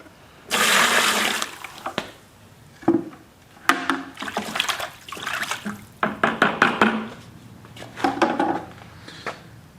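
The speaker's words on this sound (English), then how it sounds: "I'm going to add some of the fish emulsion into there" Fish emulsion fertilizer poured into a bucket of water, a first sustained gush followed by a series of short splashes, sloshes and dribbles, close and fairly loud, with no talk.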